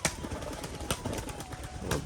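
A female pigeon calls and stirs outdoors while flying display laps from its cage, its faint coos and wing flutters mixing with steady background noise.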